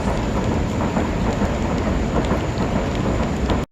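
Steady, dense rain pours down in a forest near a railway line, a continuous close hiss and patter of drops with a low rumble underneath, running without a break until it cuts off abruptly at the end.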